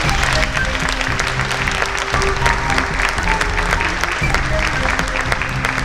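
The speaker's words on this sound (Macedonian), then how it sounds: "еден огромен аплауз за нашите мали, а толку големиот учесници" An audience at an end-of-year children's performance in Karpoš gives big, sustained applause: loud, dense clapping throughout with some crowd murmur mixed in.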